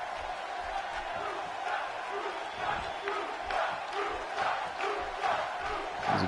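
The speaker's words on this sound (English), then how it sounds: "As you can hear the crowd here in Atlantic City getting behind Kalisto in this one-on-one contest" A wrestling arena crowd in Atlantic City roars steadily behind a wrestler during a one-on-one match, a dense, continuous mass of cheering voices with scattered shouts and whoops; commentary talk runs over the top.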